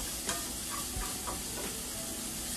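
Cabbage fries in a greased pan with a steady, dense sizzle while a utensil stirs it, making soft scraping pushes throughout. The sound is close and continuous, with no talk.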